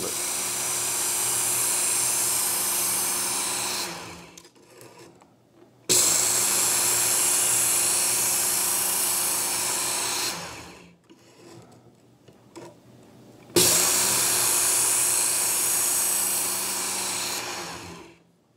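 Work Sharp Ken Onion Edition belt sharpener grinding a brisket or steak knife edge: three long, steady high-pitched whirring passes of several seconds each, separated by short near-silent gaps.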